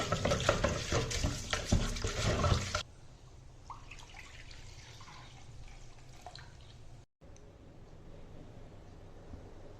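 Fresh water is poured into a cat's bowl in a home kitchen: a loud, steady rush of running water for about three seconds, then quieter trickling and sloshing with no talking.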